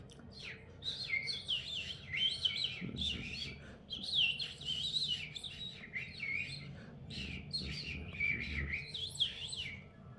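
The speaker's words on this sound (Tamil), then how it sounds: "இது வந்து லவ் பேர்ட்ஸ்." Caged pet lovebirds chatter in a continuous stream of busy, high chirps and squeaky calls, fairly close with a low household hum beneath.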